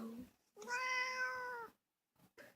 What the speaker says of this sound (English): this is my cat. Don't worry, he isn't in pain. That's just his meow.